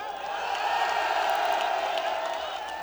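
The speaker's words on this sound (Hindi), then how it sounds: "अखिलेश जी बोलेंगे, ताली बजाओ उस बात पे" A large crowd at an outdoor political rally in Bijnor claps and cheers steadily, a broad sustained roar of applause and whoops with no voice standing out above it.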